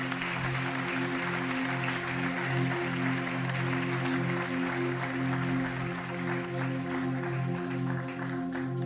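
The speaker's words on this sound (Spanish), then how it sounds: "Un aplauso fuerte a Jesús." A church congregation claps steadily and continuously for several seconds, the dense applause sitting over sustained, droning musical tones.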